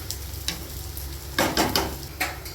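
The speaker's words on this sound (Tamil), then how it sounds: "இறக்கி தாளிச்சிடலாம்" Hot oil sizzles steadily, then crackles and spits in sudden loud bursts as spices, including fennel seeds, hit the pan for a chicken gravy.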